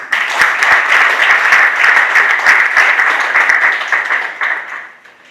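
Wedding guests applaud loudly in a hall, a full wash of many clapping hands that holds steady and then fades away toward the end, with no voices over it.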